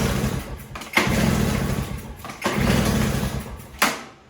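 A Toro single-stage snowblower engine runs low on fuel and keeps trying to start. It gives two short bursts of rough, rumbling running that cut out, then a brief final cough, all close.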